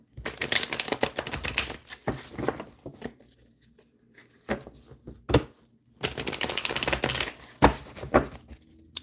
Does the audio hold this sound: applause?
no